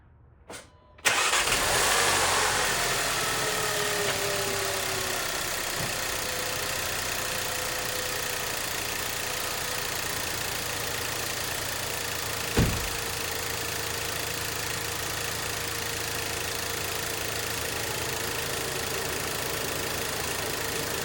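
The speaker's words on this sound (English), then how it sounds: "So I'm gonna start it now. We're back on the 2015 Golf TSI" A 2015 VW Golf TSI 1.8T engine cranks briefly and fires up, then settles into a steady, even idle. Close and continuous, with one short clunk partway through and no talk.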